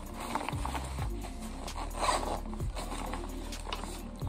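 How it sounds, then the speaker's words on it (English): The zipper of a pink, black and white school book bag is pulled open and shut in several close, rasping strokes with scraping handling noise between them. "there's a zipper inside of a zipper in here"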